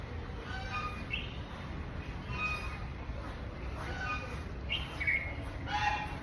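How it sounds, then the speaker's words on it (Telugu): Small birds chirp and twitter in an almond tree at a retirement home in Balapur, Hyderabad, with scattered short calls over a steady outdoor hum at moderate distance. "పక్షులు చూడండి ఎప్పుడూ పక్షుల కిలకిల రావాలు ఉంటూనే ఉంటాయన్నమాట"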